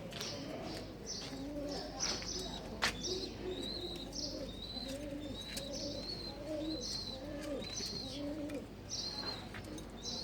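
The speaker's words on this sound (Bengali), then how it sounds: "এই যে আমার ঘুঘু পাখি" Soft, repeated dove coos in a steady rhythmic pattern, with faint chirps and background noise, moderately near.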